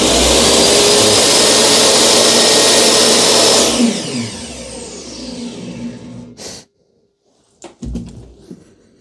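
A Dewalt DWE7492 table saw runs loudly with a steady high whine, then is switched off and winds down over a few seconds, followed by a couple of faint clunks and bumps.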